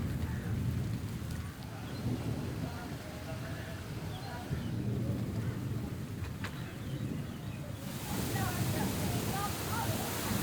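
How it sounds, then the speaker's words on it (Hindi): Heavy rain falls steadily at a village mud house in Punjab, a dense continuous wash with low rumbling, a brief faint bird call and occasional distant voices and background sounds. "बारिश तेज़ हो चुकी है"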